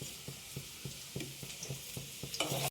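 Quiet sizzle of egg curry spices in a pan with a regular series of light spatula taps and scrapes, roughly every quarter second, ending with a louder clatter.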